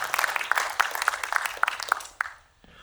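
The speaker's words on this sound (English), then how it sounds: "Big round of applause, please." Applause from an audience, a burst of claps with sharp individual hits that thins out and fades to quiet near the end.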